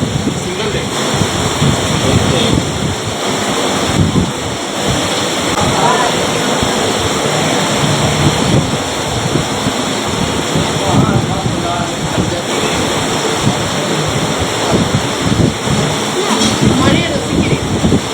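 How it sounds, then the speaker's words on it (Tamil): Steady rain falls outdoors on a Mumbai street, a loud continuous wash of hiss and splatter with people talking over it throughout. "மழையை ரசிக்கிறேன்."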